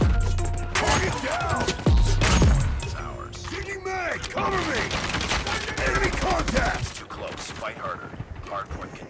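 An M4 rifle in the mobile game Call of Duty Mobile fires in rapid bursts, mixed with other game effects and music. Someone talks over the gunfire throughout, and the sound stays loud and dense.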